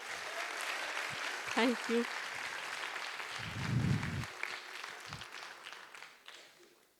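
An audience at a classical comedy play claps in a soft, scattered wash of applause while a voice speaks briefly over it, the clapping fading out at the end.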